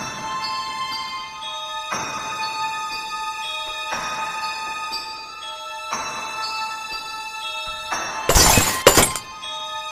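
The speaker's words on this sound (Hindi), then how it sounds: "तभी अचानक से कहीं शीशा टूटने का आवाज़ आती है" Glass shatters in an animated horror story, a single loud, sharp crash near the end that cuts across sustained eerie music tones.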